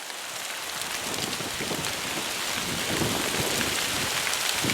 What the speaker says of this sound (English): Okay, starting to rain.